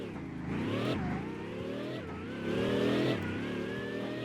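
A Bugatti accelerates in the Roblox game Vehicle Legends, a continuous engine whine rising in pitch, dropping briefly and climbing again in repeated surges, with no talk.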